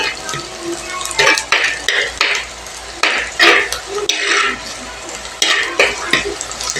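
Native curry leaves sautéed in a pan, heard as loud, repeated bursts of scraping stirring and crackling frying in an irregular rhythm, close up and with no voices.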